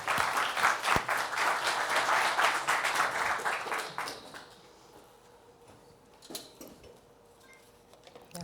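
Audience at a Spanish-language tech meetup on CQRS applauds a speaker: dense, fairly close clapping runs for about four seconds, then fades out, leaving a quiet room with a few scattered sounds.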